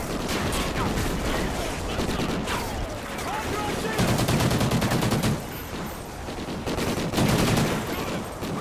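Call of Duty: Ghosts battle with dense, rapid automatic gunfire running steadily throughout, loud bursts and volleys layered over one another in a busy firefight.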